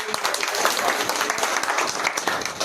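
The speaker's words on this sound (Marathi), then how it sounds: "आपण जोरदार टाळ्या" Audience applause at the inauguration of a BJP candidate's election office in Chitegaon, a steady dense roar of many hands clapping close by, continuous throughout with no voices over it.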